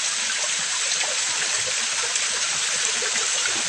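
A small natural stream flows steadily, producing a continuous hiss and bright babble of running water that stays close and even throughout, with no one speaking.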